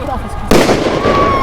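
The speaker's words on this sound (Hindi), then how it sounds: "पटाखे फोड़े जा रहे हैं और ये यकीनन फैंस होंगे सुल्तान वारियर्स के।" Firecrackers set off by cricket fans at a league grand final burst in suddenly and loudly, then crackle on continuously as a dense, rattling wall of pops.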